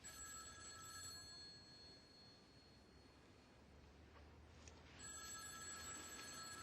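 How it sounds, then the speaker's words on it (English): A telephone rings quietly in a home, two electronic bursts separated by a pause, faint and thin against a low background hum. "Aren't you going to answer the phone?"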